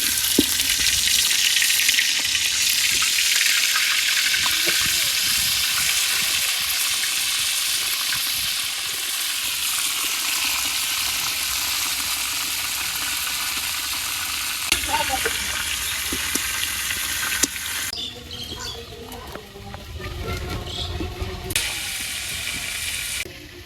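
Loud, continuous sizzling of fish frying in a pan, with a steady hiss throughout and a few utensil clinks near the end.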